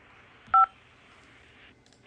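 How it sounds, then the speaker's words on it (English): A single short telephone keypad tone sounds once when 5 is pressed to accept a prison call, standing alone over a faint line hiss. "To accept this call, press 5 now."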